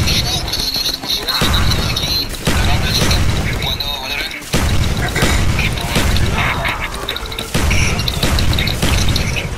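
Explosions in a Roblox zombies game: loud, repeated booms and crashing bursts roughly every second, dense and close.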